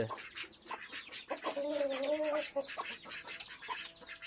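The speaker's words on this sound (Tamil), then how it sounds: "பாவம் அந்த கிண்ணிக்கோழி அந்த கிண்ணிக்கோழி வந்து ரொம்ப பாடாப்படுது" A guinea fowl gives a harsh, raspy call with a wavering tone, close by, with scattered rustling and clucks around it.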